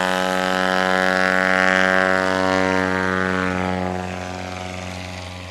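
A STOL airplane at a National STOL Series competition in Sulphur Springs, Texas, lifts off with a loud, steady propeller drone and engine roar nearby, the sound fading slightly toward the end.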